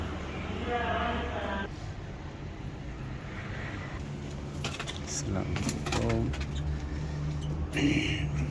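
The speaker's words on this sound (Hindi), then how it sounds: "इधर हमने 2 पेयर कबूतरों का छोड़ा है" Soft pigeon cooing in short repeated phrases, mixed with background chatter and ambient noise, with a few scattered clicks.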